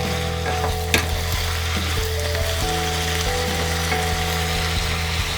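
Green beans and potatoes cook in a pan with a constant close sizzle, while a utensil scrapes and stirs through them in uneven strokes and clinks, and nobody speaks.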